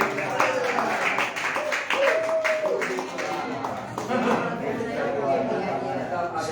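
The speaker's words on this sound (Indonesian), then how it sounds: "Sekali lagi ya, berikan tepuk tangan buat Yesus." A church congregation at a Sunday service claps and applauds for Jesus, a scattered, moderately loud patter of hands mixed with a voice speaking over it.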